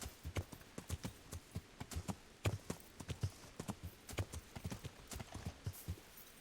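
Horse hooves clip-clop in Kingdom Come: Deliverance at night, crisp and close in an uneven rhythm of distinct strikes, heard alone without talk.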